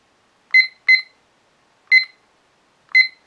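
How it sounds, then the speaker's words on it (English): Four short electronic beeps from a Hoinya kitchen timer's buttons, two close together then two spaced apart, clean and bright against near silence. "with a beep to let you know that you've actually engaged or activated the button"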